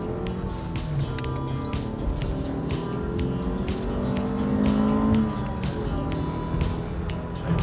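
A 1992 Honda with a small 1.7-liter engine accelerates at a Honda owners' gathering, its engine note climbing steadily and loud, close up with constant road and wind noise.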